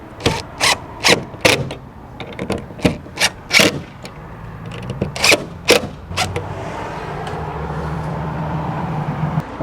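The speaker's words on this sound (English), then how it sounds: "pre-drill some holes so that way screws can go right in" A power drill whirs in a string of short bursts, roughly a dozen quick spins in a row, pre-drilling pilot holes for metal screws, then a steady mechanical hum carries on to the end.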